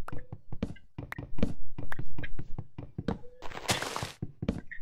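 Blocky thunks and knocks of chopping down a tree in Minecraft Beta 1.8, struck in quick repeated blows, loud and close, with a brief hissing burst near the end.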